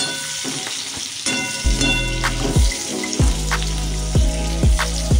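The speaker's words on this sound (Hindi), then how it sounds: "चार प्याज लिया था ये अदरक दो मिर्ची और लहसुन ये सब डाल के अच्छे से फ्राई कर लेंगे" Onions, ginger, two chillies and garlic frying in a pan for Hyderabadi paneer, with a steady close sizzle and repeated scraping stirs that give soft rhythmic thuds.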